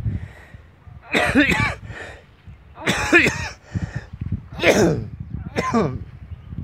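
Several separate harsh coughs, roughly one every second or so, close to the listener, with quieter breathy gaps between them.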